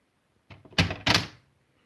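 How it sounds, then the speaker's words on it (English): A door swings shut in two quick, solid thuds about a quarter second apart, close and fairly loud against an otherwise quiet room, with a faint lighter knock just before. "And the door shuts close."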